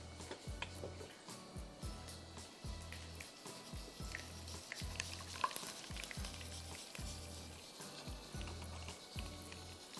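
Steady sizzling and crackling of chopped ginger and garlic frying in a pan, with faint stirring and utensil clicks over a continuous hiss.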